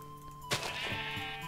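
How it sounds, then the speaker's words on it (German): A single sheep bleat in the video game Minecraft rises sharply out of quiet background music, wavering briefly and then trailing off into the tune. "Perfekt, hier sind Schafe."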